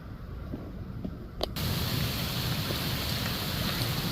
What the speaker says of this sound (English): I'd say it's raining out there pretty good.